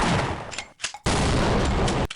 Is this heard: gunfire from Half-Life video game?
yes